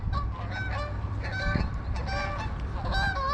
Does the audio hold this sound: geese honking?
yes